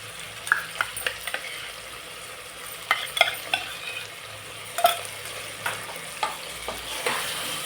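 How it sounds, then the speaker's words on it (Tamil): Chili powder, turmeric, ginger and garlic sautéing in a pan for a goat intestine curry, a soft continuous sizzle broken by irregular spoon scrapes and clinks against the pan, close and without talk. "நல்லா வதக்கிங்க. இஞ்சி பூண்டு பச்சை வாசம் போகணும்."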